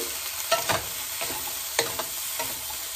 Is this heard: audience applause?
no